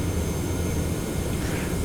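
Boeing 717 jet engines spooling up for takeoff on the runway at Amsterdam, a loud, steady broadband roar heard from the cockpit with no talk over it.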